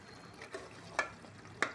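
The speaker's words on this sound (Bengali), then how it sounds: "এবার চিকেনটাকে নেড়ে দিচ্ছি ভালো করে একটু।" Chicken biryani being stirred in a pot, a soft background sizzle broken by three distinct scraping knocks of the spoon against the pot, close and fairly quiet.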